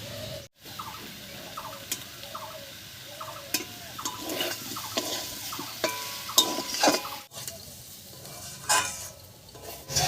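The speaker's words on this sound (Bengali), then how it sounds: "কাঁচা লঙ্কা চেরা আর গরম মশলার গুঁড়ো দিয়ে একটু নাড়িয়ে নিয়েছি" Potatoes stirred in a pan with slit green chilies and garam masala powder, soft scraping and stirring over a gentle sizzle, close by and fairly quiet.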